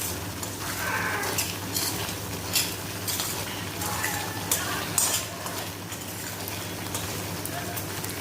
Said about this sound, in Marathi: मीडियम गॅसवरच आपले तेल तयार होते